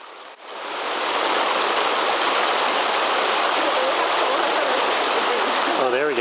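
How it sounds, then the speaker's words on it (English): Brush Creek pours steadily past a swimming hole at a bend, a loud, continuous broadband rush of flowing water that fills the whole stretch without a pause, close by. "There's a place where Brush Creek takes a right turn. Beautiful little hole for swimming."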